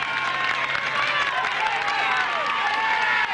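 Spectators line a Tour de France team time trial stage at Chassieu in 1991 and applaud the yellow jersey team. Their dense, sustained clapping and cheering roars steadily throughout, with some voices mixed in.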